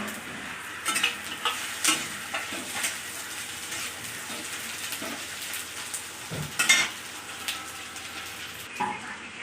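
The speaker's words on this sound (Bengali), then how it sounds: "পেঁয়াজগুলো একটু ভেজে নিন" Onions frying with ginger and garlic in a pan for a paneer dish, a continuous low sizzle broken by scraping stirs and occasional clinks of a utensil against the pan.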